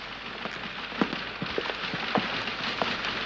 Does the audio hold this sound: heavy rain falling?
yes